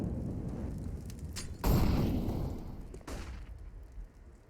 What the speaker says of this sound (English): Pistols again, and a great shot.